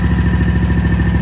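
Kawasaki engine on a Scag ride-on mower idling at tick over, a loud, even, rapidly pulsing chug held steady throughout, close by and without voices.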